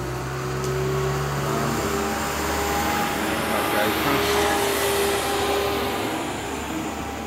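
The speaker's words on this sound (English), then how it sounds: "as you can probably hear from that lorry" A heavy lorry's engine rumbles close by on a service road beside a hotel in a steady, loud drone with a low hum, over constant outdoor background noise.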